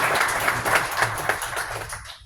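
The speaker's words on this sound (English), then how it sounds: "Let's give a round of applause." Applause from an audience at a tech demo night, a brief burst of close, dense hand clapping with distinct claps, fading out quickly after about two seconds.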